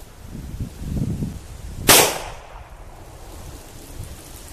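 A single sharp gunshot from a .45 Colt Lever Revolution round fired into a water jug: one loud, close crack near the midpoint, amid quiet outdoor background.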